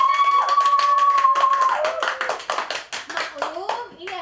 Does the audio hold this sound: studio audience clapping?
yes